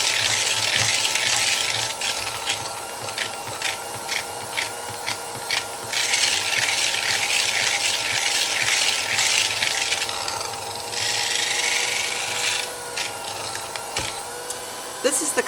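A hand whisk beats thick buttermilk cake batter in a bowl, giving steady, close, rhythmic scraping and sloshing that runs without a break and shifts pace slightly partway through.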